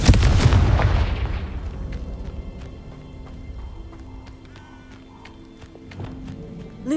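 A Confringo fire spell cast in Hogwarts Legacy opens with a loud explosive burst that fades into a rumbling tail, followed by faint ticking and small clicks from the game.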